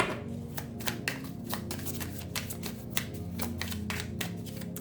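Tarot cards shuffled by hand in quick, crisp riffles, a steady run of papery flicks and snaps over a soft sustained musical background, with no voices.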